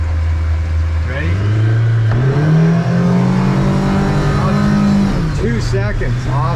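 A Yamaha F115 outboard on a 2024 Hewescraft boat revs hard under acceleration, its pitch climbing steadily, then bouncing off the rev limiter and dropping back, loud and close with wind and water rush.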